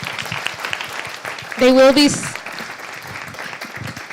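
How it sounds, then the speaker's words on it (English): Applause rising from a spiritual conference audience, steady and moderately loud, with a brief tonal squeal near the middle and a voice starting to speak over the clapping. "Let's give them another round of applause, please."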